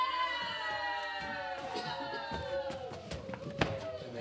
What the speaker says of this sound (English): They're cheering the young lads, the champion Playboy of the Western world.